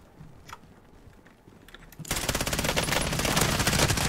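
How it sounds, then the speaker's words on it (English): Rapid automatic gunfire in Call of Duty Warzone near a Superstore, starting faint and distant, then erupting into loud, sustained bursts of shots for the second half. "They're fighting? Oh, they're shooting."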